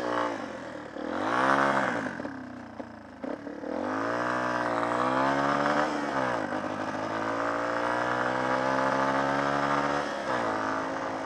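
A motorbike engine revs and drones while off-roading, pitch rising and falling through repeated throttle changes, loud and close throughout with a brief dip near the start.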